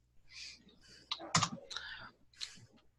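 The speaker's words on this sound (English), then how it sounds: "I can hear you typing." Quiet, scattered clicks of typing on a computer keyboard, in short irregular bursts close to the microphone.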